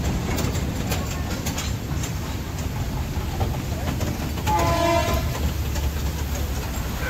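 The Matheran toy train runs past on its narrow-gauge hill line; a steady rumble and rattle of wheels carry throughout, with a brief horn-like tone near the middle, and people chat over it.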